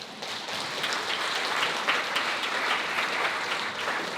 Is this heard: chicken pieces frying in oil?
no